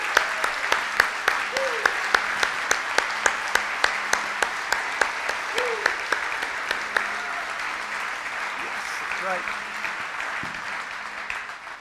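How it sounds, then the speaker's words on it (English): A church congregation applauds steadily. Regular loud claps stand out in a rhythm over the wash of applause, and a voice speaks briefly during it. "Let's erupt with applause to you."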